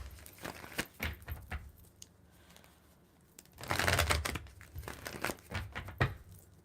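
Tarot cards shuffled by hand in quiet intervals, with crisp riffling and soft crinkling bursts, a dense flurry near the middle, close and fairly faint.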